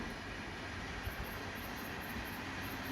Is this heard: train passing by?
yes